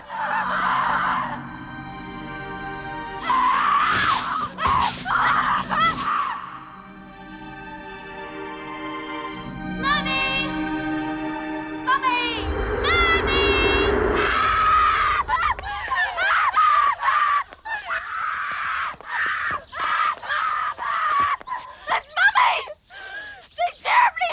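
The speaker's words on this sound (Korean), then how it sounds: "비명을 지르며 숲속을 달리는 두 소녀." Two girls scream while running through a forest in a film, their loud, shrill cries rising repeatedly over a music score and rustling movement, with other intense vocal bursts throughout.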